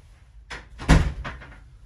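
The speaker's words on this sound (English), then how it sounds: "Just let me shut this door, it's doing me head in." A door is pushed shut, a short creak and shuffle followed by a solid thud and a brief rattle as it settles, close and fairly quiet.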